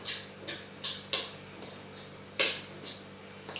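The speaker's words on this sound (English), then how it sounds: "you can use the spoon to mash it a little bit" A spoon mashing Blue Band margarine into flour in a bowl for scones, giving a series of irregular light clinks and taps against the bowl, close and fairly quiet.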